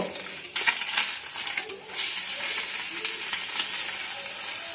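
An egg omelette sizzles and crackles steadily in a frying pan, with a few sharper scraping or clinking touches early on, close and moderately loud, no talking.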